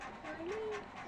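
A puppy pants in quick, soft breaths through a single short burst, with a faint whimpering whine rising in the middle, heard close and fairly quiet.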